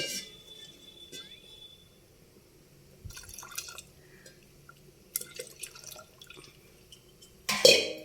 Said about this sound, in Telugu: ఇప్పుడు ఇందులో ఫ్రెష్ కొబ్బరి పాలు వేసుకుందామండి.